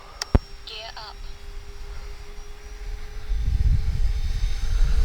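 Electric RC model OV-10 warbird on 4S batteries climbing out after takeoff, its motors a low rising drone that grows louder toward the end, with a brief click near the start.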